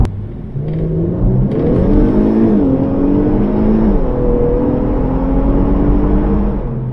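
An Infiniti Q50 Red Sport 400 sedan with all-wheel drive accelerates hard, its engine droning loud and close with a steady rising tone through a brief gear change, plus road and wind rumble underneath.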